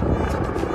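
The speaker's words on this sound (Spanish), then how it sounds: "El helicóptero." A helicopter flies overhead above Governors Island, a steady broadband rotor drone that stays loud and constant throughout with no speech.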